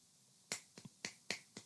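Five quiet, crisp finger snaps come in a loose, uneven rhythm, close and isolated against a near-silent background.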